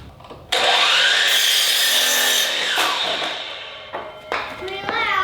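A power saw, set up with a miter, cuts wooden concrete form boards for a curved retaining wall: a loud sustained whining buzz that bites in, holds for a couple of seconds, winds down, then gives short spin-up bursts.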